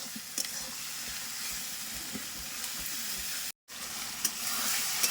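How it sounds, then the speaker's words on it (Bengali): Spice masala with chopped tomato fries in a pan for Bengali chicken kosha, a steady close sizzle and hiss with light stirring scrapes and a brief dropout partway through. "দিয়ে দিচ্ছি টমেটো কুচি এবার সব মশলাটাকে ভালোভাবে কষতে হবে"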